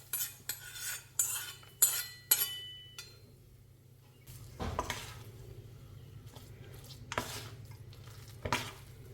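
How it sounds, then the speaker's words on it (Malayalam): Coconut bits fried in ghee and stirred in a pan, heard as sharp metal spoon clinks and scrapes early on, then a soft steady sizzle with occasional stirring knocks. "ഇതിലേക്ക് കുറച്ച് നാളികേര കൊത്തണം നെയ്യിൽ വറുത്തെടുത്താണ്"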